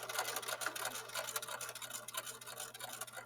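A sewing machine runs a straight 5/8-inch seam down the side of a garment toward the pocket, making a quiet, steady, rapid mechanical ticking that continues evenly throughout without pause.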